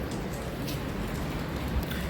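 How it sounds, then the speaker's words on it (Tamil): Rain falling outside a theatre in London, a soft, steady hiss of drops with faint patter throughout, heard alone at low level. "இப்போ மழை பெஞ்சிக்கிட்டு இருக்கு"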